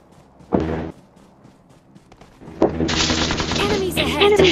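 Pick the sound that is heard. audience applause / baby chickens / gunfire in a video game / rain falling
gunfire in a video game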